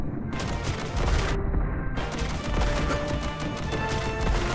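Spread-shot gunfire in the classic run-and-gun game Contra: dense, continuous rapid shooting and impact noise under game music, loud and near, with brief gaps in the firing.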